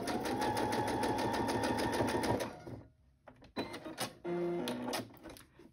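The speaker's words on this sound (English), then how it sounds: "I think I just sewed over my thread" Sewing machine stitching, a fast, even mechanical clatter for about two seconds, then a pause and a few short stop-start bursts of stitching close by.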